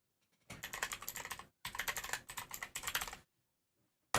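Rapid typing on a computer keyboard in two close bursts of brisk key clatter separated by a short pause, with silence after.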